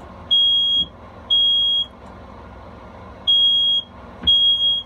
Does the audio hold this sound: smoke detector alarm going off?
yes